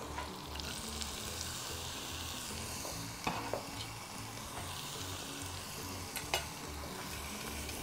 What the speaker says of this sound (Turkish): Şimdi tereyağım eriyor. İçerisine önce soğanlarımı ekliyorum.